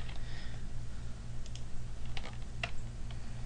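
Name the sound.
typing on a computer keyboard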